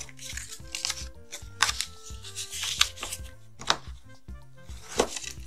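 Paper being folded into mountain and valley creases for a card message box, heard as soft, close crinkles and crisp creasing snaps at an uneven pace over faint background music, with no talk.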